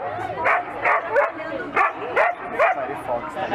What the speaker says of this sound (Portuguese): Tem já alguns cachorros ali